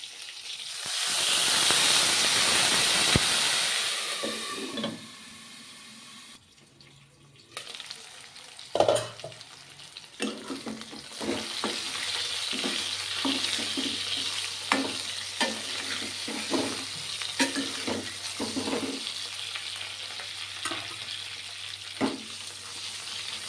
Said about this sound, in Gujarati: થોડુંક પાણી એડ કરીશું